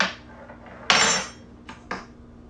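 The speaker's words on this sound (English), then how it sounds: "So we're just gonna stir this up and then express the lime in it." A swizzle stick stirs Ti' Punch, a rum and lime drink, in a glass, giving a few bright close clinks and rattles, one louder scrape, then two short taps.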